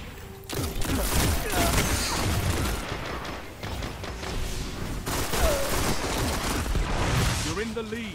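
Dense rifle gunfire from a Destiny Crucible match rattles almost nonstop in rapid bursts, with explosions and game effects layered under it throughout.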